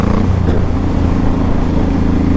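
A 2005 Honda Shadow Saber 1100 motorcycle accelerates with a steady, loud, low engine drone that holds close and constant for a couple of seconds, with no voices.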